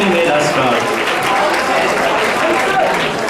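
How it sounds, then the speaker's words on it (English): Dense, sustained applause from a large audience at a 2019 closing ceremony, steady and loud throughout with crowd noise mixed in. "Please give yourself a massive round of applause."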